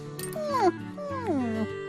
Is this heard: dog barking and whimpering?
yes